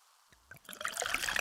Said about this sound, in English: Listen to that endless pour.